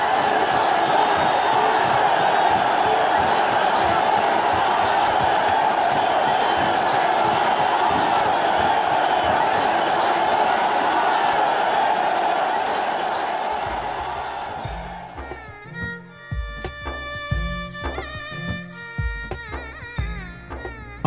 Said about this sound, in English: It is a festival atmosphere that has its excitement built by the cheering spectators